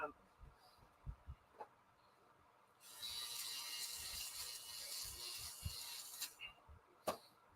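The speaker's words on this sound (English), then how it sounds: "Let me get my nose hair trimmer out." A small electric nose hair trimmer switches on and buzzes in a thin, steady whine for about three and a half seconds, quiet and close, with some soft handling clicks and murmured talk around it.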